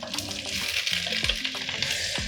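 Gizzard meat fries in a hot pan, a bright, crackling sizzle running continuously at moderate level, broken by a few soft clinks and scrapes as the pieces are stirred and spread.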